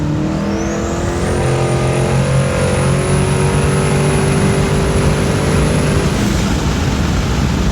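Mustang S550 with a twin-turbo kit accelerating hard in second gear from a roll, a loud sustained engine note with a long rising turbo whine that climbs and holds until near the end, no talk.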